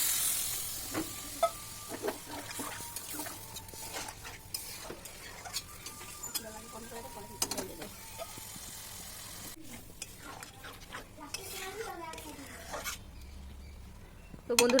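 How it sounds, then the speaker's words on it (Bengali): Green jackfruit with prawns simmering in a pan after water has been poured in, with steady stirring scrapes, soft sizzling and occasional utensil clinks, and faint voices in the background. "এবার ইঁচড়টাকে ভালো করে কষিয়ে নেওয়া হচ্ছে, তারপরে জল দিয়ে দেওয়া হলো।"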